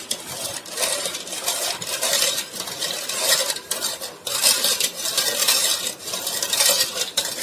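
A spoon mixes sugar powder in a bowl, making continuous close scraping and clinking of metal on dish in an uneven, rapid rhythm, with no talking.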